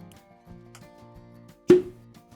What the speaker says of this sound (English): Excellent cork pop.